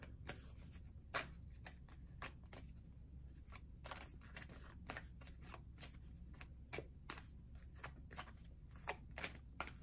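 Tarot cards are shuffled and drawn, producing a run of quiet, close, sharp card snaps and flicks at an irregular pace over a faint background, with no talking.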